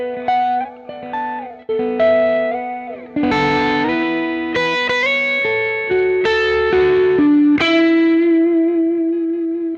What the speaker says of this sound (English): I'm keeping the B droning the whole time as I slide up and down